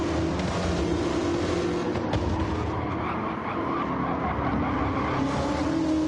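Race cars on a track in the NFRL Kenworth 200 Oshkosh series: engines roar continuously and loudly, a dense pack sound with rising and falling pitch and no break.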